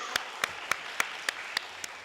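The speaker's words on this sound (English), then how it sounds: "Let's give the chairman another round of applause for this powerful political report" Rhythmic clapping at a political party congress after the chairman's report, sharp evenly spaced claps in a steady beat over a soft room background, fairly close and distinct.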